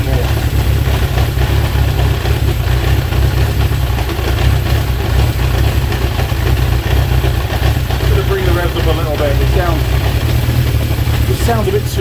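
Honda CB750 K2 motorcycle engine idling steadily and close while its carburettors are balanced, a continuous low rumble under occasional talk.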